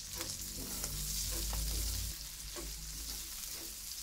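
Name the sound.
onion and garlic sautéing in a pan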